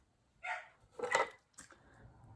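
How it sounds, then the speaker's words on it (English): A small dog barks three times in the background, short muffled yaps spaced about half a second apart against a quiet room, with nothing else heard. "You can hear my little dog barking in the background."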